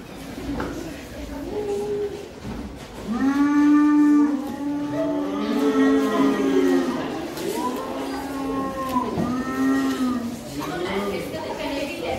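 Cows mooing on a farm, several long, drawn-out moos rising and falling and overlapping one another at close range.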